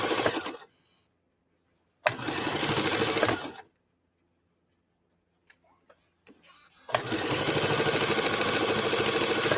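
A sewing machine stitches fabric in three loud, steady, close-up runs. Near-silent pauses separate the runs, and the last run is the longest.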